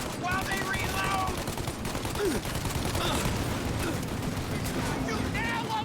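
Enemies fire continuously in Mafia Definitive Edition, a dense, steady barrage of gunshots and rattling bursts filling the whole stretch, with shouted voices mixed in among the shots.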